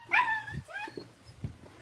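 A puppy lets out a few short, high yips and barks close by, with faint low thumps between them.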